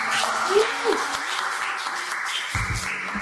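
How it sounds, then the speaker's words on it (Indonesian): A steady wash of applause from a crowd, moderately loud and continuous, with a voice briefly heard over it. "Tepuk tangan dulu dong"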